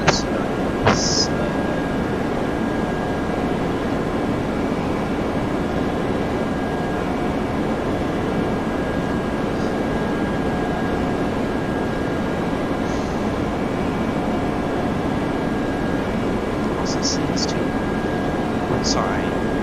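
Steady droning engine hum of a Lufthansa Airbus A320 in Flight Simulator X, a constant loud whine and rumble with a few brief high beeps scattered through.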